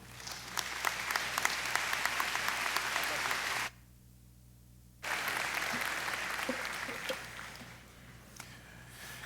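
An audience at a 2016 commencement ceremony applauds to welcome the speaker, a sustained loud wash of clapping that cuts out briefly midway, then resumes and fades toward the end.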